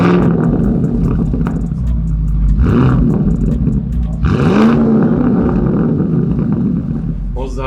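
A loud Maserati MC20 engine with an aftermarket exhaust starts and rumbles deeply, with a couple of sharp revving bursts rising and falling through a throaty exhaust.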